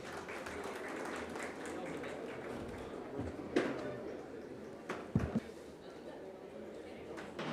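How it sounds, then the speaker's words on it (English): An audience at a corporate partner summit applauds a speaker on stage. The clapping is a faint, steady crowd wash, a voice speaks over it, and a few louder knocks and thumps stand out near the middle. "Can we have a big round of applause for him?"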